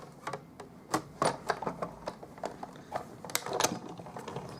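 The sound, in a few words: Big Shot die-cutting machine being cranked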